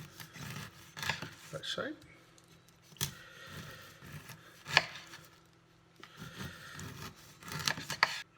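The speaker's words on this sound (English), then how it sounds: "So our next job is to cut the kernels off the sweet corn" A knife cuts kernels off charred sweet corn in a few bursts of crisp scraping and chopping strokes, close up, with a voice speaking briefly between them.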